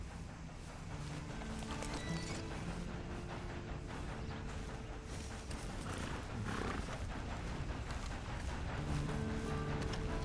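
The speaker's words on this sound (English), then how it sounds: "Then you better get on this horse." Horse hooves clip-clopping with occasional neighing in the Red Dead Redemption 2 video game, faint and steady under a low ambient background.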